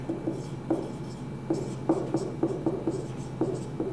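Chalk or a marker taps and scratches across a board during a chemistry lecture on sodium oxide, with irregular short strokes and clicks over a quiet room hum.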